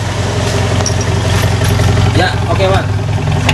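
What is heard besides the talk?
Toyota Kijang engine revving with racing resonator exhaust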